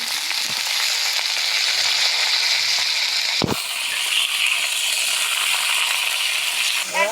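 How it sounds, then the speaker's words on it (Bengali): Flat beans sizzling in hot oil in a pan after fish has been fried, a loud steady hiss interrupted midway by a sharp clatter, with light scraping near the end. "দেখো মাছটা সুন্দর ভাজা হয়ে গেছে এখন আমি সিমগুলা দিয়ে দিলাম"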